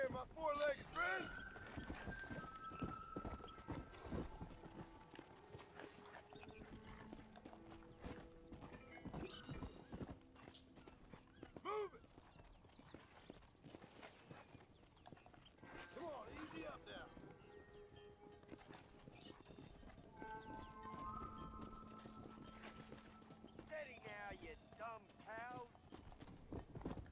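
Horse hooves clip-clop steadily in the Western video game Red Dead Redemption, a clear walking rhythm with an occasional whinny, while a voice talks over it.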